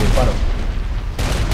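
Gunfire in the video game Saints Row IV, a dense run of shots and booms filling the whole stretch at close, loud level, with a brief gap before more bursts resume.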